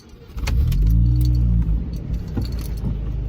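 A modified car's engine cranks and fires up with a loud rising rumble, then settles into a throaty idle, heard close with keys jangling during the start.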